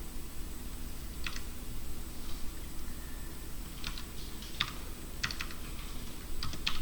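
Quiet, sparse keystrokes on a computer keyboard while C code is typed, scattered clicks over a steady background hum with no talking.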